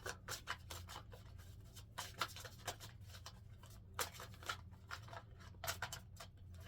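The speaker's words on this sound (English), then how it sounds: "I'm just gonna shuffle those cards back into this deck real quick" A deck of tarot-style cards being shuffled close by, with repeated soft riffling and slapping bursts in an uneven rhythm over a low background hum, no talking.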